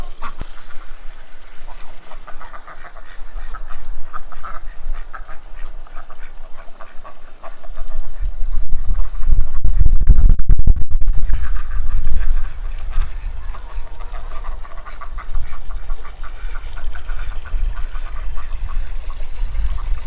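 Ducks at a backyard pond quacking in a noisy flock against a constant rumbling background, with a louder swell of sound partway through.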